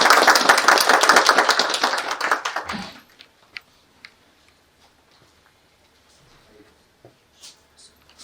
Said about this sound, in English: So please, a big round of applause for them.